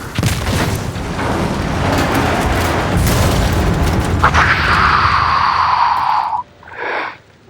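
A platform crashes and explodes in the video game Rogue Trader: a loud, sustained rumbling boom with crashing debris, followed by a fading metallic whine and a short final burst.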